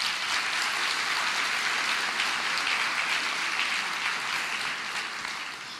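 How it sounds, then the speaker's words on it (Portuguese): A church congregation claps together in continuous, even applause, a broad wash of sound that holds steady and tapers slightly near the end. "Se quiser aplaudir, fica à vontade."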